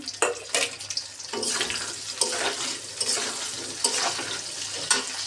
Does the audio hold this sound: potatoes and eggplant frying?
yes